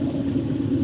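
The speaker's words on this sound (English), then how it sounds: "Bro, the truck just get louder." Steady low engine rumble from a passing truck, continuous and fairly loud throughout with no talking over it.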